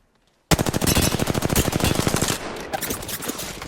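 A sudden burst of automatic weapon fire from Apex Legends starts after a moment of silence, loud and rapid, then settles into a slightly quieter, more scattered exchange of shots.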